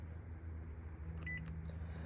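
A few short electronic beeps from a Talaria electric bike during key programming sound over a steady low hum, clustered together near the end.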